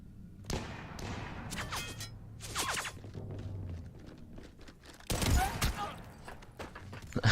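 Gunfire in Mass Effect 3 during a shuttle evacuation fight: scattered sharp bursts and thuds spread through the clip, strongest near the end, mixed with game voices and clatter.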